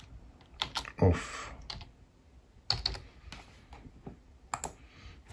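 Bursts of typing on a computer keyboard while entering an ECU tuning setting for a 2005 VW Golf 5 1.4 55kW, clustered key clicks with pauses between groups, fairly close, with a brief spoken exclamation.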